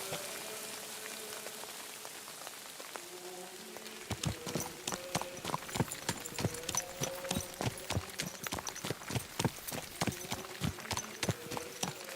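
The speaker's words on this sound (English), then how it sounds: "This horse." Horse hooves clip-clop on a road in the medieval video game Kingdom Come: Deliverance II, a steady rhythmic trot that begins after a few seconds of quiet ambience and continues close and crisp.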